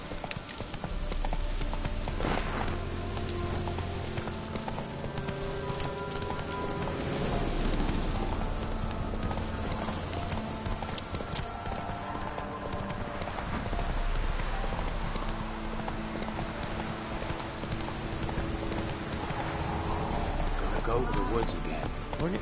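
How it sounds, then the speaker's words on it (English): Hooves of the horse Roach clip-clop in a rapid galloping rhythm in The Witcher 3 video game, steady and prominent throughout, with rain and game sounds around and voices speaking over it. "Giddy up. Not so fast, Roach"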